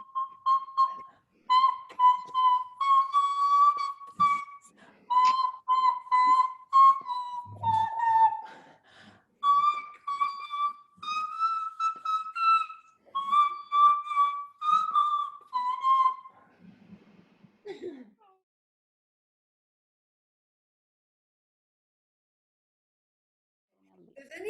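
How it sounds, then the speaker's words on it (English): A person whistles a high-pitched tune in clear, melodic phrases for about sixteen seconds, close and fairly loud, then stops, with a few faint sounds and silence afterward. "Could you possibly try it in whistle, way up high?"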